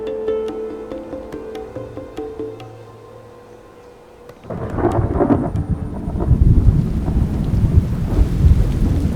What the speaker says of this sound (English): Enormous amounts of rain drench the country